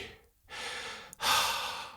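Two long breaths close to a Sennheiser MKH 416 microphone with a compressor, an exhale followed by a pause and then a louder, breathy inhale, with no talking.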